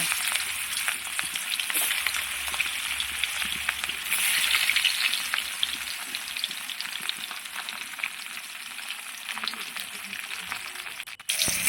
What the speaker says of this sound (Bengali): তারপরে মাছগুলো এপিক এপিক করে আমি লাল লাল করে ভেজে নেব